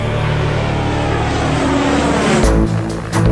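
Turbo Raven propeller aircraft flying aerobatics with reversible-pitch propellers, a loud, steady engine and propeller roar that sustains throughout, shifting in tone near the end as the plane maneuvers.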